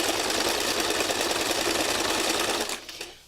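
A sewing machine stitches at a steady fast clatter, loud and close, for about three seconds before winding down and stopping.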